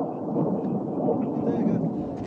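A deep, rumbling blast from a French Mirage jet's airstrike on a sand-coloured pickup in the Malian desert rolls on as a steady, loud roar for the whole short stretch, heard from a distance.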